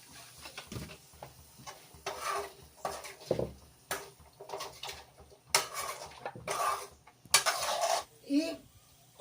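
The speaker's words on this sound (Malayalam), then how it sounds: "അല്പസമയത്തൊക്കെ ഇളക്കി കൊടുക്കും" A spoon scrapes and clinks against a pot while mango pickle is stirred at home, intermittent metallic scrapes at an uneven pace, with a voice speaking over it.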